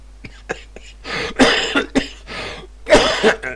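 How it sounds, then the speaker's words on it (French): Several sharp flu coughs burst out close to the mic, clustered in two rough bouts with brief breathy pauses between them. "excusez-moi hein, de tousser, mais j'ai attrapé une grippe"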